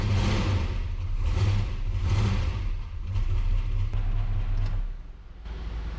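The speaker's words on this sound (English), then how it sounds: "Even when you rev her up, she don't move." A barn-find Dodge Charger Daytona, abandoned for 32 years, revs repeatedly in rough close bursts over a steady idle, each swell rising and falling, with no speech.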